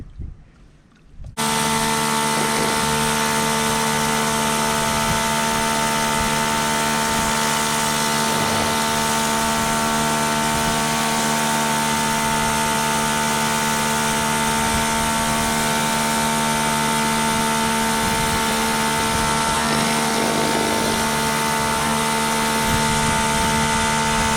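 A turbo-head power washer cleans mildew off a patio, its engine roaring steady and loud close by, with a broad spray hiss held throughout after a brief quiet start.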